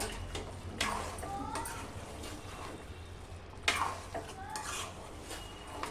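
A spoon scrapes and clinks around a pot as chicken with chicken masala and chilli powder is stirred, quiet metallic knocks coming every few seconds over a faint low background, with a voice murmuring briefly.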